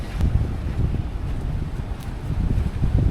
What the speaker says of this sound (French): il y a un peu de vent quand même. Il y a de la houle là.